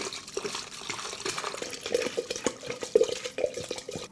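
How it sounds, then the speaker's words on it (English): Vodka poured from a bottle into a glass over sugar cubes with an orange, giving a steady liquid trickle with soft splashy bursts, close and fairly quiet. "you're going to take your vodka and you're going to pour it in."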